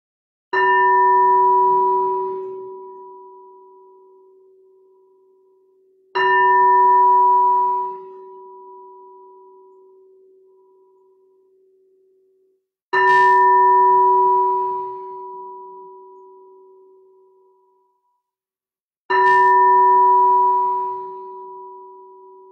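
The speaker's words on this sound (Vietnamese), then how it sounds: "để tiếng chuông đưa mình vào trạng thái thiền định sâu hơn" A meditation bell rings out in a quiet sound bath, struck four times about six seconds apart, each clear, pure tone swelling and then slowly fading into silence.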